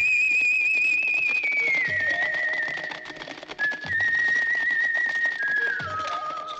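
Cheerful melodic whistling carries the lead line of a spaghetti-western film score, a bright sustained tune gliding steadily over orchestral accompaniment with periodic low percussive hits.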